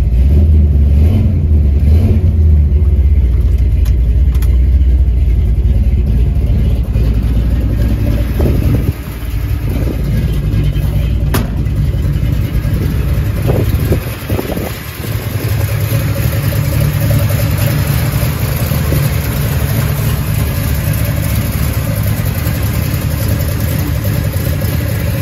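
Engine of a 1964 Mercury Marauder coupe running with its exhaust rumbling, a deep steady idle held loud and close for a long stretch, briefly dipping midway, with no talking.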